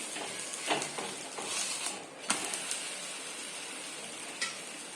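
A sabudana paratha for a fasting meal fries in a little oil on a pan, giving a soft, even, continuous sizzle with a few faint clicks and scrapes from a spatula nearby.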